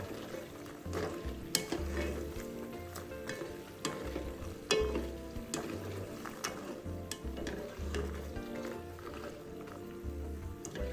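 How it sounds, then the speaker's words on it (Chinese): Salted egg yolk shortbread dough frying in oil over medium-low heat sizzles continuously while being stirred and tossed, with close scraping and light knocks from the utensil against the pan. "炉一直保持中低火，不停翻拌油炸，这样成品才会受热均匀"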